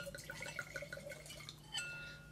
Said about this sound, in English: And let's give it a pour.